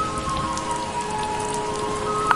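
Steady rain falls in an animated school scene, a dense even hiss of drops on the ground with a faint tonal hum underneath and a small clatter at the very end, no voices.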